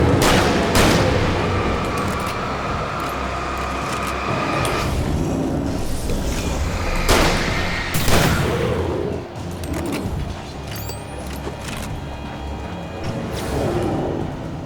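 Gunfire in the video game Alan Wake Remastered, a few sharp loud shots spaced apart over a dark, rumbling game soundscape.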